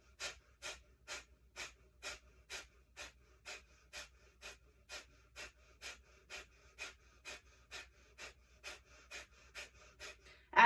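Rhythmic breathing during a yoga exercise, a steady series of about twenty short, even exhalations through the mouth, close and soft, with a low hum beneath and no talk.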